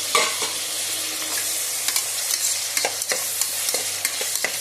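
Onions, tomatoes and green chillies sauté in a pan, giving a steady close sizzle broken by sharp scraping strokes of a spatula, with clearer clatters toward the end.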